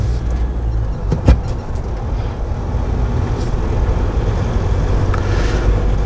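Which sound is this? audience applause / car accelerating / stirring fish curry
car accelerating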